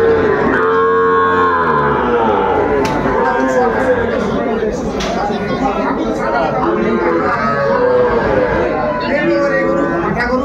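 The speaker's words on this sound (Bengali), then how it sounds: "আমাদের একটু গরুগুলো দেখান সুন্দরভাবে" Cattle at a livestock market where Sahiwal bulls and calves are sold, with lowing and moo-like calls mixed into a steady, busy wash of crowd chatter and people talking throughout.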